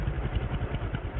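A tractor engine in Farmer's Dynasty 2 chugs in a low, steady, rumbling rhythm, heard up close and alone for a brief stretch.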